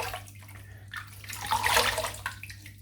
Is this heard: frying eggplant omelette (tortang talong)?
no